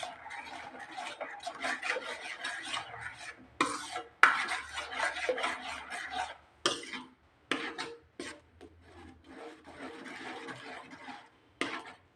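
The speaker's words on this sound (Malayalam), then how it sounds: "കൈയെടുക്കാതെ ഇളക്കിക്കൊണ്ടിരിക്കണം" Tender coconut halwa is stirred without pause in a pan, a close, steady scraping and rubbing that runs in long strokes broken by brief gaps.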